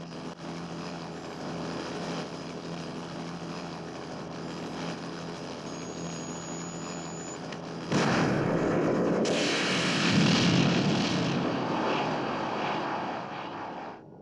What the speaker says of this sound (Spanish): Ese helicóptero es derribado.